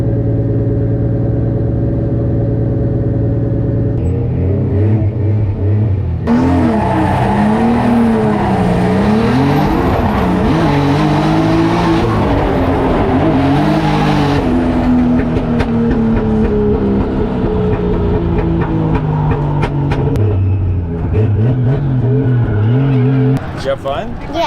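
A drift wagon's engine is revved hard for a long stretch, loud and close, its pitch repeatedly climbing and dropping in sweeping surges, with a brief sharper burst of tire noise near the middle.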